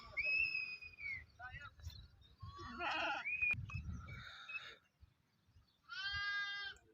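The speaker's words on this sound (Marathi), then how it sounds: "त्या सत्यवाच्या मेंढ्या आहेत त्या" Sheep travelling with a devotional palkhi procession give several clear, wavering bleats, some near and loud, others fainter, with quiet gaps between them and a little talking mixed in.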